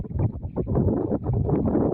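Strong wind buffets the microphone with a heavy, low rumble, and water sloshes against a boat in an uneven rhythm.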